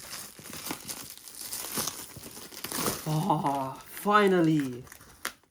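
Plastic packaging of a heavy haul parcel crinkles and tears as its side is cut open, a continuous rustling close by, with a person speaking briefly near the end.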